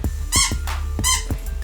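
A squeaky dog toy gives two sharp, high-pitched rubbery squeals about 0.7 seconds apart, each followed by a short fading tail, heard fairly close.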